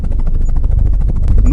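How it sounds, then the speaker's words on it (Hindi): Helicopter rotor blades chop in a fast, steady, loud rhythm, heavy in the low end and close by, with no voices over it. "मैंने तुरंत पायलट को हेलीकॉप्टर नीचे लेने को बोला"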